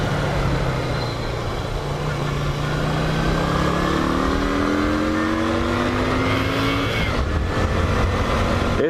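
A 2003 Yamaha XV250 Virago on a commute hums along with a steady engine drone, rising in pitch as it accelerates through low gears, then a shift and another climb.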